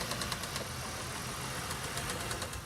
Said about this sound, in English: That loud noise is coming from the engine of Ellie Shea's 2017 Honda Pilot.